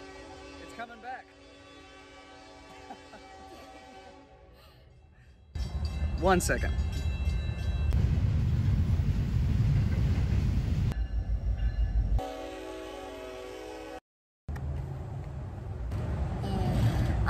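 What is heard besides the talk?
train passing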